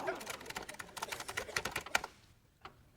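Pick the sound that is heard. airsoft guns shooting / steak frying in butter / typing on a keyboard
typing on a keyboard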